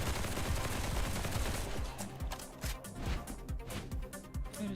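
Rapid gunfire in the video game Duet Night Abyss, a burst of dense shots followed by a string of separate punchy reports over a busy, loud mix.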